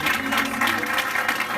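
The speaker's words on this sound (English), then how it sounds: "Another round of applause for Hester Springer, who did a wonderful job warming." An audience at a small music venue in Soho gives a round of applause for a warm-up act, dense and fairly loud clapping throughout the brief moment.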